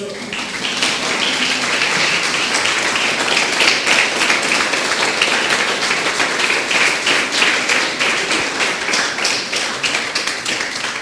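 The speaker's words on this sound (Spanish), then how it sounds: "Dale un fuerte aplauso al Señor." A church congregation claps loudly and continuously for the Lord at an evangelical service, dense sustained applause filling the room for about eleven seconds, with some voices mixed in.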